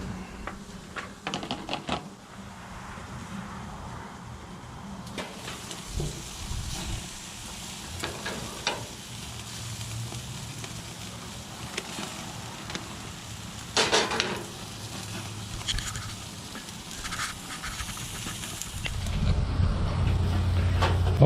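Bratwursts sizzle in a pan with a steady low frying hiss throughout, broken by clicks, taps and utensil knocks, and a louder rumble near the end.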